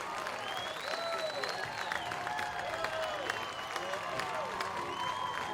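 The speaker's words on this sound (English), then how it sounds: "you can hear this Loretto crowd as they come to their feet" Baseball crowd at the 2017 Loretto vs. Goodpasture state championship game rising to its feet, a steady, dense roar of cheering, clapping and whistles that stays loud throughout.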